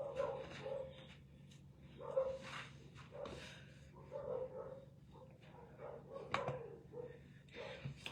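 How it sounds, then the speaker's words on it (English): Dogs barking and yipping in short bursts at a moderate distance, with brief pauses between barks and a steady low background hum. "Who is my granddogs outside barking at?"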